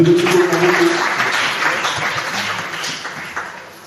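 A church congregation bursts into applause to acclaim the Lord, a dense burst of clapping that is loudest at the start and slowly thins and fades.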